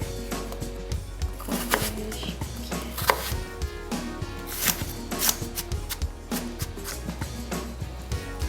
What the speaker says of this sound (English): I'm gonna cut it the same as the others in nice little small cubes